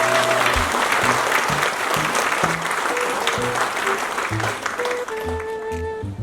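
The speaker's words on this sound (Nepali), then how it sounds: "हामी सामूहिक ढङ्गमा एउटाले अर्कोलाई ताली बजाएर स्वागत जनाउनेछ" A gathering at a church sisters' fellowship claps together in welcome, a steady wash of group applause lasting the whole stretch, with faint tonal sounds behind it.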